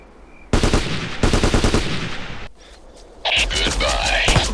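Gunfire in the video game Ghost Recon: loud bursts of rapid automatic shots in two close volleys, a brief lull, then more firing with other game sounds.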